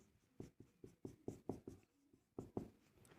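Chalk or marker strokes on a classroom board as a teacher writes out a maths equation, a quick run of short scratchy taps in uneven rhythm with a brief pause, close and fairly quiet, no talking.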